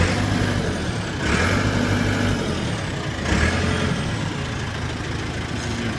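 A Caterpillar 420D backhoe loader's engine runs steadily just after being started, a loud, close diesel drone with two brief swells in intensity and no talk over it.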